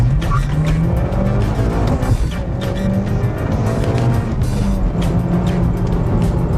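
A stock car driven hard, its engine roaring loud and steady throughout with hints of tire squeal and skidding over the drone, close and continuous.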